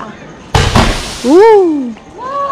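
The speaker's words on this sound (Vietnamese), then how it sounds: "hôm nay sớm mình đốt pháo hoa dữ hả?" Fireworks bursting in a crowded neighborhood alley on Lunar New Year's Eve, with two sharp close bangs followed by people calling out and exclaiming in excitement over the noise.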